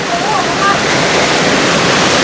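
Heavy rain and floodwater rush in a loud, constant broadband roar with no breaks, close and enveloping.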